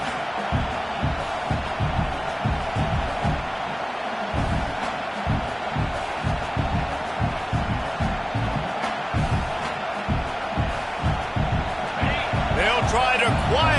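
Stadium crowd noise from a football video game fills the background steadily, with a roaring, cheering swell rising toward the end, heard under continuous play-by-play commentary.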